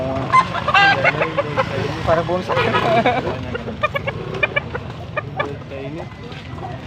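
Chickens cluck and squawk close by in a busy cluster of calls at a chicken market in Angeles City, Pampanga, with people talking over them throughout.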